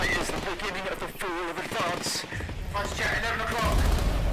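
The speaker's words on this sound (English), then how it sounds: "Oh, there's gunfire." Bursts of gunfire crackle through a chaotic scene in the PS4 game Not For Broadcast, with rapid shots layered under excited voices and a low rumble building toward the end.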